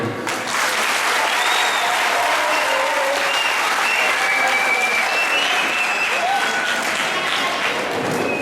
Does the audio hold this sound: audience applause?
yes